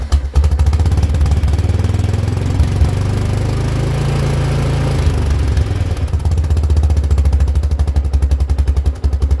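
A Kawasaki Prairie 360 ATV engine runs steadily at idle after a choke start, a loud, continuous low mechanical drone with a slight shift in pitch partway through and no talking.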